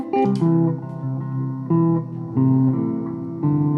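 Guitar loop played back at half speed through a Ditto X4 looper pedal, giving slowed, lowered sustained chords with steady harmonic tones that swell and shift in a few distinct sections, loud and with no talking.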